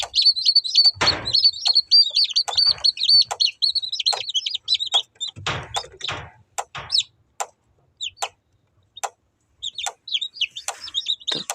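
Newly hatched chicks peep continuously from an incubator, a dense chorus of high, rapid chirps close by, with a few louder bursts and soft rustling underneath; no one speaks.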